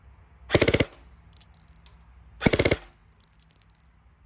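Cybergun FN Scar 16 airsoft rifle firing two short full-auto bursts of about ten rounds a second, sharp and close, each followed by quieter clicking rattles.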